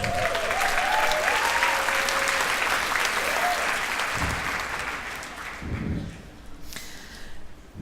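An audience at a 2018 managers' retreat breaks into sustained clapping that gradually thins out and fades, with faint voices underneath toward the end.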